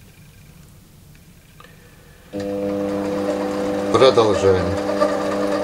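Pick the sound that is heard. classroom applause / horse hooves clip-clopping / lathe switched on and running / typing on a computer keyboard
lathe switched on and running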